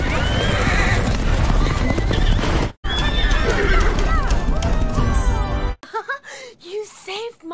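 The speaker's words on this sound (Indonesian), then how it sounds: "Tiba-tiba mereka mendengar suara kuda." Loud, dense hooves of many horses galloping together, with whinnies rising above the thunder before a brief gap and a few closer neighs.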